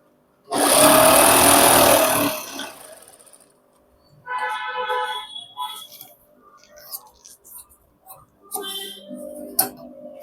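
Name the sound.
sewing machine stitching a pant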